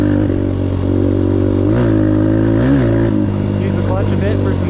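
A 2022 Suzuki DRZ125L dirt bike engine revs hard and pulls away, a loud steady drone with rising and falling pitch swells as the throttle opens, close to the rider with wind noise.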